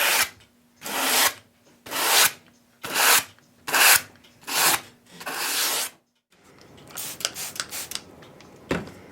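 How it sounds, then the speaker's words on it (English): Sharp edges on oak pieces are eased with 320 grit sandpaper in seven close, evenly spaced rasping strokes, each about half a second long. Quieter, lighter scratching and a final sharp scrape follow. "I'm just going to very carefully ease over these sharp edges here with 320 grit sandpaper"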